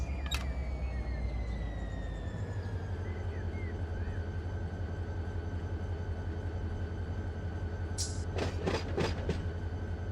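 An Erie Lackawanna train runs in the Run 8 train simulator game, a steady low engine rumble with rolling wheel noise and a few brief high squeals and clanks near the end, no voices.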